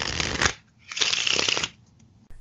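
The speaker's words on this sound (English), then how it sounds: "So if you did those two shuffles in a row and then dealt out those four hands of cards" A deck of playing cards being shuffled in two quick riffle bursts separated by a short pause, crisp rapid fluttering and close to the listener, with no talking.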